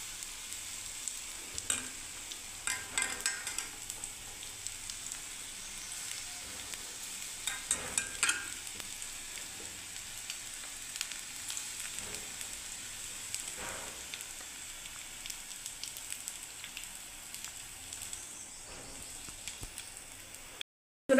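Lentil fritters (bora) fry in hot oil over a lowered gas flame, a faint, steady crackling sizzle that runs throughout with occasional soft pops.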